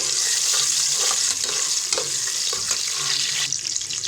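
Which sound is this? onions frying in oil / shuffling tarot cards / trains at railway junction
onions frying in oil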